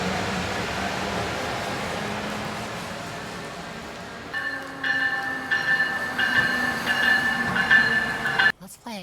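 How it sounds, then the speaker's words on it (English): Southbound trains pass a railway platform on a Harrisburg to Baltimore route: one rumbles past, then a second rolls in with a steady metallic hum and high wheel squeal, clattering loudly close by before stopping abruptly. "I'll just chill on the platform watching all the southbound trains go"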